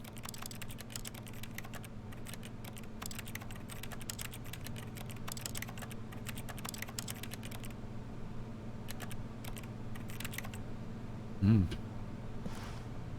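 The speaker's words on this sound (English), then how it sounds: "If we actually click, it just sounds like he's still at a keyboard." Keyboard typing clicks from the video game The Stanley Parable, a run of quick, light taps through the first half that grow sparse later, sitting over a steady low hum.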